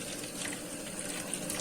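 Hot water runs steadily from a kitchen tap over taro being scrubbed by hand, a continuous close splashing hiss with no talk.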